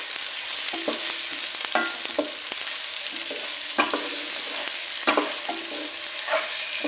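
A small tomato softening in a pan for a quick masala curry, giving a steady close sizzle with repeated scraping strokes of a spoon every second or so, with no talk.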